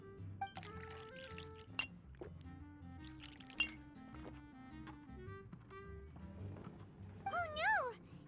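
Juice poured and glasses clinking in the Genshin Impact video game, with light liquid trickles and scattered glassy chinks over soft background music, ending in a short rising warble.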